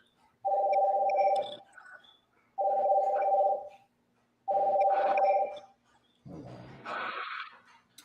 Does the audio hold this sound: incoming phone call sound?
yes